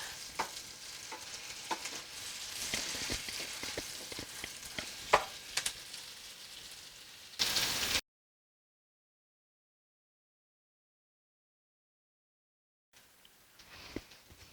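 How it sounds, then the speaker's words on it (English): Onions sizzle softly in a pan while being stirred, a gentle crackling hiss with scraping utensil clicks, cutting out to silence partway through before faint sizzling returns at the end. "You'll want to cook this just a little while here till your onions get tender and just at the start caramelizing."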